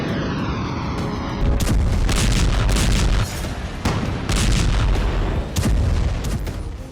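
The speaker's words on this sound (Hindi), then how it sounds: "सीजफायर की खामोशी से पहले बारूदी धमाकों का ऐसा शोर कि दहशत कायम रहे।" Artillery shells explode during the Israel-Hamas war, a loud, dense barrage of booms and rumbling blasts that follow one another almost without pause.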